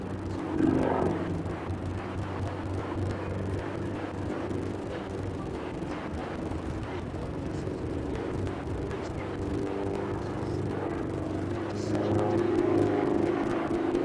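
Aerobatic display aircraft, stressed to plus 12 and minus 10 G, flying at the Farnborough International airshow: a steady, distant engine drone and whir rises and falls gently over fourteen seconds, carrying no talk.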